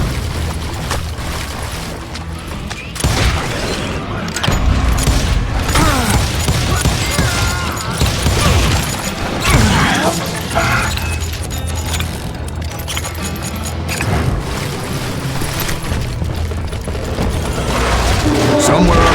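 Dense, chaotic gunfire in the Call of Juarez Gunslinger western shooter, with rapid overlapping shots, booms and clatter running throughout alongside music and effects, loud and continuous.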